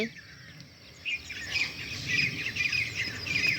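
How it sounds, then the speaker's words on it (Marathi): Small birds chirp in quick, high tweets at a distance, scattered over a quiet outdoor background. "इतके छोटे छोटे पक्षी उडत आहे"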